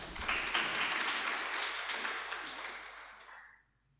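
An audience at a Jain religious discourse claps together, a soft, fairly distant wash of applause that gradually dies away into near silence.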